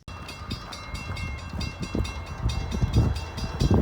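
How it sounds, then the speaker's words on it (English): A heavy freight train rolls past on the tracks, a close rumbling run of wheels and cars with rhythmic clacks that grows louder toward the end. "Got another train, folks."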